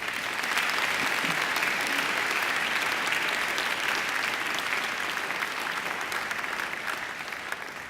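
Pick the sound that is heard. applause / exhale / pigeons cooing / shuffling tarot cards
applause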